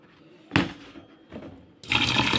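Gobindobhog rice being washed in water in a home kitchen for mutton pulao, with brief splashes and swishes followed by a louder, steady rush of water near the end.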